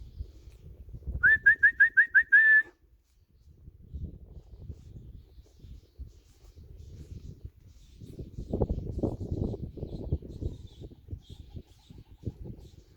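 Racing pigeons returning to the loft: a quick repeated whistled trill rings out briefly, followed by low murmuring coos and soft fluttering that swell and fade.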